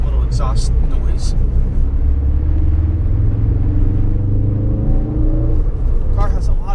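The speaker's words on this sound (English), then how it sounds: "I've got it in the race mode right now because I like to hear the little exhaust noise." A 2016 Ford Focus RS in race mode gives a steady, loud exhaust drone with rising engine tones as it pulls through the gears, heard from inside the car with a voice talking over it at the start and end.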